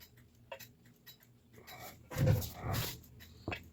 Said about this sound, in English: And watch the escapement wheel and listen for the ticks.